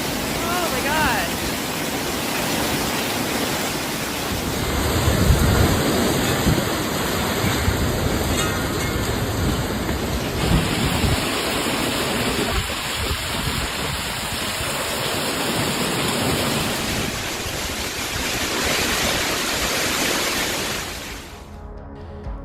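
Heavy rain and strong wind roar steadily through a storm with flooding, with a dense, loud wash of noise that sustains for the whole stretch and fades out at the end.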